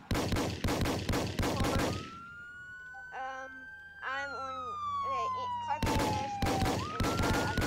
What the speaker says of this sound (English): What's the location of the shots fired?